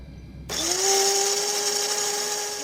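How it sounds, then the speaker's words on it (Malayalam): A kitchen mixer jar blends mango pieces for a mango custard, its motor starting abruptly and then holding a steady, loud, high-pitched whir with no talk. "ബാക്കി നമുക്ക് ഇപ്പം മിക്സഡ് ജാറിനകത്തിട്ട് അടിച്ചെടുക്കാവുന്നതാണ്."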